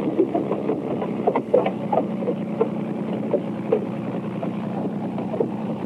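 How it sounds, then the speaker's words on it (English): A speedboat engine drones steadily and evenly, with wind and water noise around it. "into the speedboat. We've got to catch those fellas."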